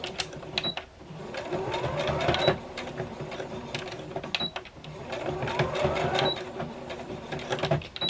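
A sewing machine runs straight-stitch seams on either side of the nose wire of a fabric face mask, sounding as a steady mechanical whir with rhythmic needle clatter in two sustained bursts and a brief pause between them.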